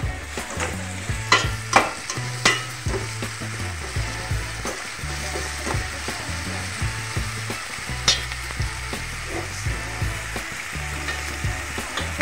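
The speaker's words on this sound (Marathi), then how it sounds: "मी त्यानंतर बारीक चिरलेला कांदा टाकून घेणार आहे व यामध्ये चवीपुरतं मीठ टाकून घेणार आहे आणि हे चांगल्या प्रकारे परतून घेणार आहे" Finely chopped onion with salt sautéing in a pan, a steady close sizzle with repeated scraping stirs and a few sharper clinks against the pan throughout.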